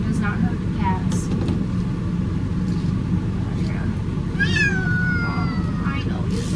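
A cat being shaved and groomed lets out a few drawn-out meows over a steady low hum from the grooming clippers. The meows are close and moderately loud, with the clearest one near the end.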